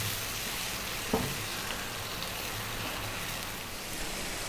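Lamb curry simmering on medium heat, a faint, even bubbling sizzle throughout with one soft stir or tap near the start, quiet and free of speech.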